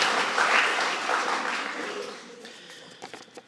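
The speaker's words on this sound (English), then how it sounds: "Yes, clap it up for them." Audience at a school athletics awards ceremony clapping for tennis players, a full round of applause that swells and then tapers off, ending in a few scattered separate claps and faint room noise.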